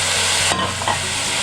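Onions and tomatoes are stirred in a pan over low heat while preparing Nile perch, with a steady close sizzle and a couple of brief scraping strokes, no voices.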